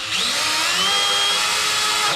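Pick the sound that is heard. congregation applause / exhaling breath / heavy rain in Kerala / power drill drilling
power drill drilling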